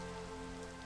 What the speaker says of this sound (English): Oh boy, it's raining, so let's go in the house